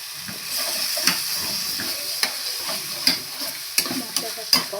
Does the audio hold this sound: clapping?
no